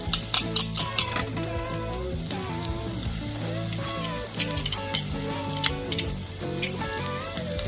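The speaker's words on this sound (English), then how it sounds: "When you start smelling the fragrance of the garlic," Garlic sizzling in oil in a skillet, with steady frying hiss and stirring scrapes and clinks of a utensil against the pan, close and moderately loud under background music.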